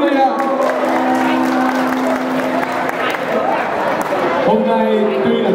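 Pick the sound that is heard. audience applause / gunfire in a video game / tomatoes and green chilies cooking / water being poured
audience applause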